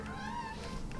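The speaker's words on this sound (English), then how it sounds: "The cat wants to play." A cat meows in a drawn-out, rising-and-falling call lasting about a second, close and clear over a steady low background hum.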